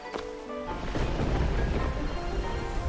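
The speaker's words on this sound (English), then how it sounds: "Oh, it's raining." Steady rain falls in the video game Immortal Life, a dense, even hiss of drops that swells after a brief start and holds close and continuous, with no talk over it.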